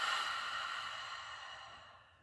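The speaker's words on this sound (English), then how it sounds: "this time we're gonna breathe out through our mouth." During a yoga breathing exercise, one long, airy exhale through the mouth, close and clear, fading steadily over about two seconds like a soft sigh, with no talking.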